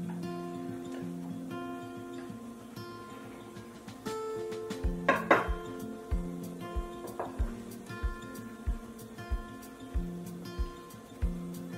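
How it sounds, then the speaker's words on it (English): An egg yolk mixture for sponge cake is stirred gently in a pan, giving quiet, rhythmic scraping taps that repeat steadily over faint background hum. "by stirring it gently, all the egg yolk is getting blended"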